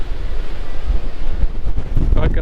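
Strong coastal wind at the Giant's Causeway rumbles across the microphone in heavy, continuous low gusts, with a louder burst near the end and faint surf underneath.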